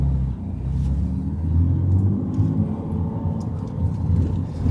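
A BMW G80 M3 fitted with a Milltek exhaust, valves open, rumbles heavily at low revs, a loud, deep burbling drone with slight rises in pitch, steady throughout and without any voices.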